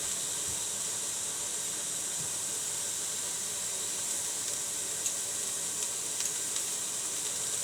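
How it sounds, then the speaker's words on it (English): Onions and garlic sizzle in a hot skillet with a steady, broad hiss, joined by faint occasional crackles and pops, continuous for several seconds with no talking. "I'm going to go ahead with the rest of the onions and garlic and just pour them inside."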